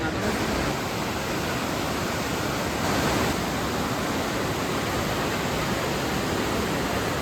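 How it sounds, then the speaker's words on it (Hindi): The Pinder river rushes loudly near the Pindari glacier, a dense, steady broadband roar of whitewater heard from close by at a bridge, filling the whole stretch without pause. "पिंडर नदी को सबसे ज़्यादा आवाज़ करने वाली नदी बताया गया है"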